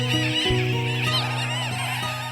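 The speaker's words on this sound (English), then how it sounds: "but for thousands of seabirds" Seabirds call on the remote Phoenix Islands, a dense chorus of harsh, honking and squawking voices overlapping continuously at close to middle distance, loud and busy throughout.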